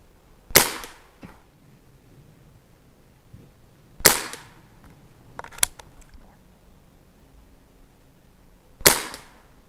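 A Seneca Dragonfly MK2 .22 pump pneumatic air rifle fires Crosman pellets, giving three sharp, loud cracks spaced several seconds apart, plus a fainter click in between, with no talking.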